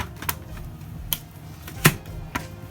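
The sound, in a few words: knife cutting beetroot on a cutting board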